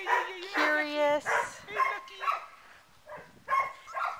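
Six-week-old puppies yip and bark in short, high, bright bursts that come and go, with several yelps overlapping up close across a few seconds.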